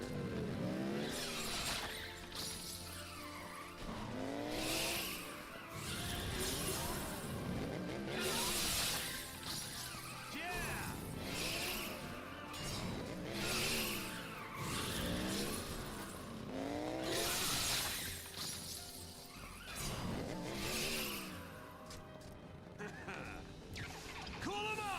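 Shiva's summoned motorcycle from Final Fantasy XIII revving and screeching through a wheelie, rising engine whines, tire squeals and crashing impacts in repeated bursts, with game voices and battle noise mixed throughout.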